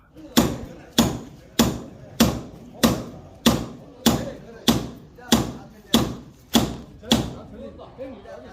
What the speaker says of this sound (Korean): 현판시 고정은 이렇게 망치로 하는군요